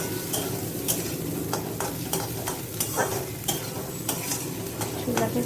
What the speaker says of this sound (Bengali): ছোলাটা দিয়ে অল্প ভাজবো